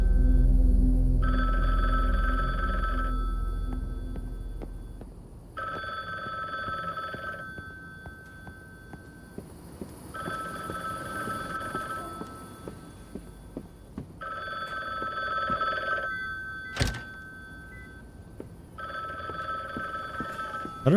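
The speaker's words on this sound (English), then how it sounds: "2 minutes later, and there's the phone." A telephone rings in The Bookwalker: Thief of Tales video game, five evenly spaced ring bursts with short silent gaps, steady and fairly loud over a low background hum.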